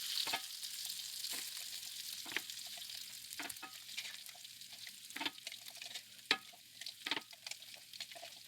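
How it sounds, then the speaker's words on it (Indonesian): Blended onions frying in a pan give a steady, close sizzle with crackling pops and occasional sharper spatters or stirring clicks throughout, with no talking. "Kemudian kita tumis kembali bawang yang sudah dihaluskan."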